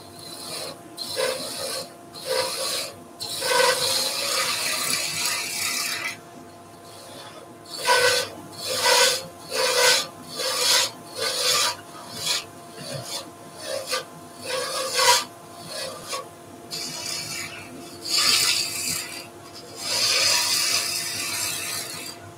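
A skew chisel works a resin and burr maple pen blank spinning on a lathe. It makes repeated rasping, scraping passes in short bursts with brief pauses, close and fairly loud, and no one speaks.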